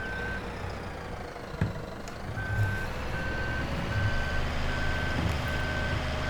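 Reversing beeps from a vehicle in Farming Simulator 2017, a steady run of evenly spaced electronic tones over a continuous engine rumble, with a brief thump early on.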